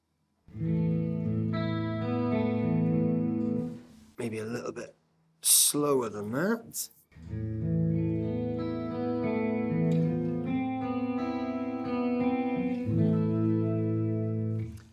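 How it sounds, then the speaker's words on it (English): Electric guitar through a chorus effect pedal on a clean tone, 80s style, playing sustained chords loudly, with a short break where someone speaks briefly before the shimmering chords return. "So for me, chorus has 2 different uses, one of which is 80s kind of clean tones."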